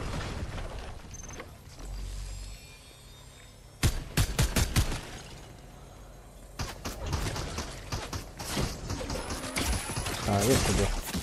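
Gunfire rings out from a Fortnite match, loud bursts of rapid shots in several clusters, probably from a placed turret, with other game sounds and voices talking over it.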